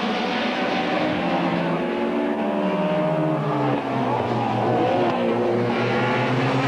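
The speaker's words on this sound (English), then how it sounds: "Gravitt coming up to lap a BMW, who moves across and lets him through" Touring cars race around Donington Park in the 1990 British Touring Car Championship, with engines roaring loudly and continuously as cars pass, their pitch sweeping up and down through gear changes.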